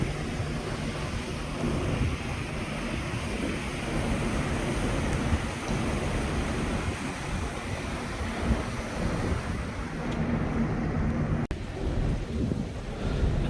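Heavy rain falls on a cruise ship deck off the Bahamas, a steady, dense wash of noise with a low ocean and wind rumble underneath and no voices.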